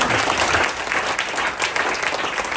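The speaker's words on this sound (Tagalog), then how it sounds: "Malakas na palakpak para sa ating Panginoon." Loud congregation applause inside a church, brief dense clapping filling the whole moment without speech.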